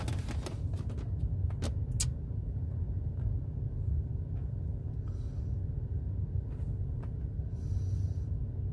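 The diesel engine of a Volvo XC90 D5 AWD idles with a steady low rumble, a few sharp clicks and knocks early on, no speech.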